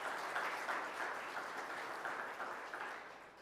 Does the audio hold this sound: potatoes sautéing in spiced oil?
no